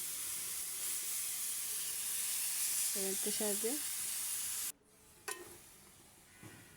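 Grated carrots sizzle steadily in hot ghee and oil for a carrot laddu, a loud continuous frying hiss with a brief spoken phrase over it, then the sizzle cuts off and only faint clatter follows.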